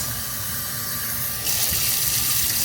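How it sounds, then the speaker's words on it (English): Water pours steadily into a pot for chicken bone broth, a loud continuous rushing splash that grows brighter and fuller partway through, with no voices. "And then we're gonna top this with water."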